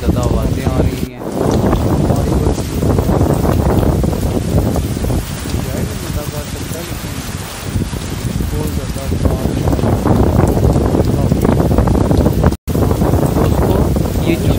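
Strong gusting wind and heavy rain sweep across the docks in a constant loud rush that thumps against the microphone, and a voice talks through the storm.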